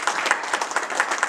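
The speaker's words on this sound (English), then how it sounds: "Show to thunderous applause the egg." Audience applause at a live close-up magic show, a short, lively burst of many hands clapping together at moderate volume.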